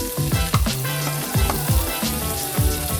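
Impossible meat frying in butter in a pan, sizzling steadily and close up with scraping stir strokes at an irregular rhythm, and no talking.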